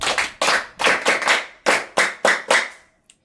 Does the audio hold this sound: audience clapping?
yes